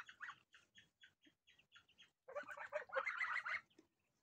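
Geese and ducks honk and quack in a short series of rhythmic calls, then a denser burst of overlapping calls from a small flock nearby, as geese meet ducklings.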